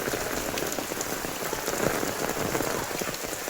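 Steady rain pours down on surfaces in a dense, even hiss of raindrops, loud and unbroken, with no voices.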